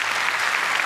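Audience at the Turkish talent show Yetenek Sizsiniz Türkiye claps steadily, a thick, uninterrupted burst of many hands without talk.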